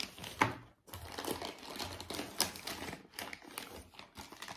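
Paper inserts rustled and crinkled by hand while unboxing a Nintendo Switch console, with close, irregular crackling bursts and rustles continuing over several seconds, no talking.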